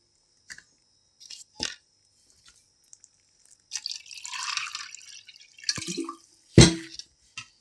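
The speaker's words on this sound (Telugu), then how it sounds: "దీంట్లో ఇప్పుడు కూలింగ్ వాటర్ కలుపుకుందాము." Cool water poured into a salted yogurt mixture for a summer drink, heard as a few scattered drips and then a run of close trickling and splashing, ending in one louder plop.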